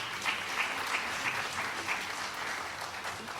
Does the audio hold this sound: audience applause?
yes